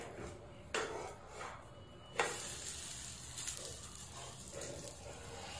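Rava uttapam roasting with oil on a pan, a quiet continuous hiss broken by a couple of sharp utensil clinks, faint and close with no voices.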